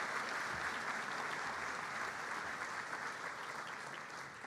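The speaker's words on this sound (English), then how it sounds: "Please join me in giving her a round of applause." Sustained applause from the audience at Manasquan High School's 2023 graduation ceremony, a dense, even roar of many hands clapping, moderately distant and continuous throughout.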